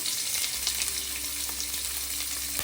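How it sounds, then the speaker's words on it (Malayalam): Sliced onion frying in hot oil with dals, cumin and curry leaves for a beans poriyal, a steady close sizzle that runs unbroken throughout with no voices. "ഇതൊന്ന് ചൂടായതിന് ശേഷം നമുക്ക് ഇതിലേക്ക് സവാള ചേർത്തോളൂ"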